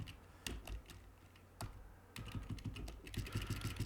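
Fingers type code on a computer keyboard in steady bursts of quick, close-up key clicks, quiet and uninterrupted by speech.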